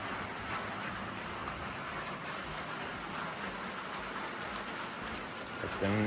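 Rain falls steadily on a surface outdoors around an ambulance camper build, a constant dense patter with scattered individual drops, moderately loud and unbroken throughout.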